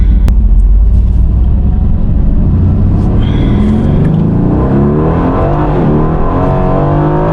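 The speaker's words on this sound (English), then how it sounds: "Just the V8 noise that this thing makes, it is far louder than I thought it was going to be stock" Aston Martin Vantage F1 Edition with a stock V8 pulling hard, a loud, deep engine roar climbing steadily in pitch as it accelerates, with constant wind and road rumble from inside the car.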